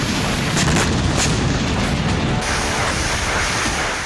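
Heavy explosions from a Russian glide bomb attack on a front line in Ukraine's Kharkiv region, a loud, sustained booming rumble that shifts to a rougher blast texture partway through, with no voices.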